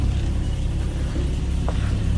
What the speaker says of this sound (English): Guess it sounds like you'd expect an inline 6 to sound.